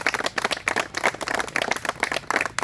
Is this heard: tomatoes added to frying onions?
no